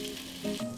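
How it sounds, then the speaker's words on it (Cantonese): Chicken pieces pan-frying with ginger slices and shallots in a wok, a close, steady sizzle with a few brief tonal squeaks from the pan over its short span. "等雞件煎到兩面金黃色，就可以盛起備用"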